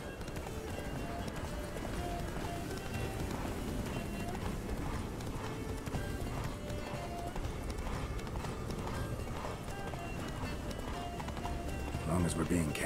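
The horse Roach gallops in The Witcher 3, with steady, rapid hoofbeats pounding throughout while voices talk over them.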